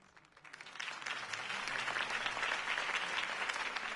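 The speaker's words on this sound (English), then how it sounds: "could have heard that applause" Applause from a crowd in the video game Batman: The Telltale Series builds quickly from quiet and holds as a steady, dense clatter of many hands clapping.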